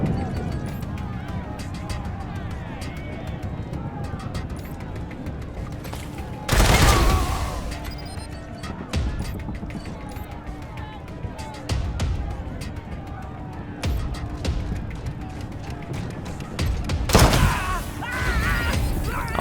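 Gunfire in the post-apocalyptic role-playing game Wasteland 3, a few loud sharp bursts standing out over ongoing game sound and talk, with voices speaking throughout.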